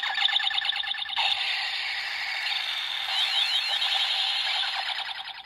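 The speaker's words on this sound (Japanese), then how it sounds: "レバーを押して離すとタイフーンが回ります。" Kamen Rider V3 Double Typhoon toy transformation belt from the Rider henshin belt series, its typhoon spinning with a loud, steady electronic whirring and warbling siren-like tone that holds without pause for several seconds.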